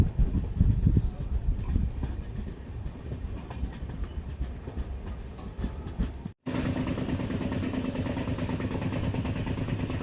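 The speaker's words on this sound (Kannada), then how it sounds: "ನಮ್ಮ ಟ್ರೈನ್ ಈಗ ರಾಯಬಾಗ ರೈಲ್ವೆ ಸ್ಟೇಷನ್ಗೆ ಎಂಟ್ರಿ ಆಗ್ತಿದೆ, ಪ್ಲ್ಯಾಟ್ಫಾರ್ಮ್ ನಂಬರ್ 2ಕ್ಕೆ" A passenger train on the Miraj to Belagavi route rolling into Raybag railway station toward platform 2, a steady loud rumble and rattle of the carriages heard from inside, with a brief dropout and then a sustained hum as it slows.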